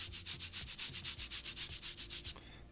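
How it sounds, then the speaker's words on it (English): A wet pad is rubbed back and forth over a coaster before laser engraving, making quick rhythmic swishing strokes, about fifteen in a steady run, close and soft, then stopping. "And then I'm just going to rub it over with the wet part as well."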